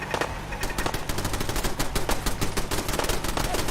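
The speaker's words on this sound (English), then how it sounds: "Lots of bullets, guys." Machine gun fire in Fallout 4, a rapid, steady stream of loud gunshots rattling close by at an even rhythm without a break.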